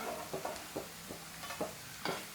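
Golden coin eggs fry in hot oil in a pan, giving a faint, steady hiss broken by scattered small pops and crackles.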